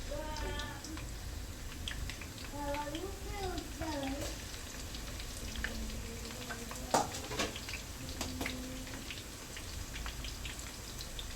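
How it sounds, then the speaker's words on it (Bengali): Chopped onions fry in hot oil in a wok, a soft, steady sizzle with a few sharper crackles, running quietly beneath a person talking. "এই তো কড়াইতে তেল গরম করে দিয়ে দিলাম। এখন পেঁয়াজ কুচিগুলো দিয়ে দেবো।"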